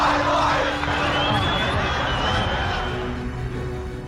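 A crowd of Syrian citizens cheers and shouts together after the fall of a dictatorship, a dense, continuous roar of many voices with whoops and cries that holds steady throughout.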